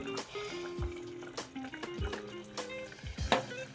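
Five beaten eggs poured into a simmering hotel-style masala gravy give soft, close liquid splashes and drips in a few short bursts, with no talking.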